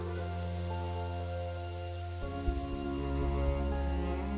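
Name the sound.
rain falling in the South American rainforest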